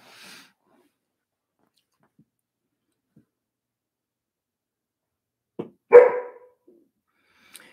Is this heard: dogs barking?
yes